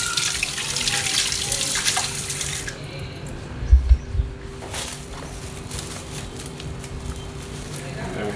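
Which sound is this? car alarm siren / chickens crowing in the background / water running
water running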